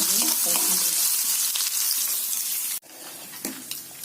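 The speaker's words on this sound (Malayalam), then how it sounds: "നെയ്യിൽ ഈ തേങ്ങയും കശുവണ്ടിയൊക്കെ വറുക്കും." Loud, bright sizzling of grated coconut frying in hot ghee fills the first few seconds, then cuts off abruptly, leaving quieter faint sizzling and a few small clatters.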